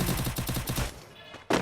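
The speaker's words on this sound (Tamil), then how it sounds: "பின்னாடி புல்லட் சவுண்ட் கேட்குது" Free Fire gameplay carries a rapid automatic burst of gunfire, then a short pause and a single loud shot.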